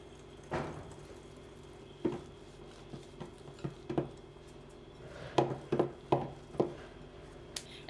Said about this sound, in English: I will add the cornstarch and mix that together until it forms a paste